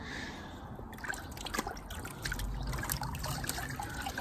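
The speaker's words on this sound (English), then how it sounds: "I'm going to take my hat off and dunk it in the water." A hat is dunked in warm water: water sloshes and splashes, then trickles and drips steadily close by, with no talking.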